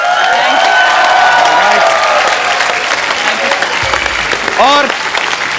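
A television comedy studio audience breaks into loud, sustained applause mixed with cheering, close and dense. Voices carry through it, and a tonal music cue rises near the end.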